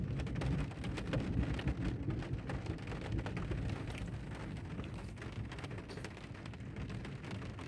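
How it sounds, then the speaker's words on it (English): Thunder rumbles steadily through a heavy, continuous downpour outdoors, the low roll sustained under dense rain hiss with no voices. "There's thunder again."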